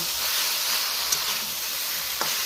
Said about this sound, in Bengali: এবার এইটা ভালো করে মশলার সাথে আরও 2 মিনিট ভালো করে কষিয়ে নেব